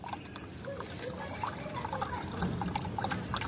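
Enzyme water pours into a homemade plant fertilizer mix, a soft continuous trickle and splash close by with faint patter, no talking over it.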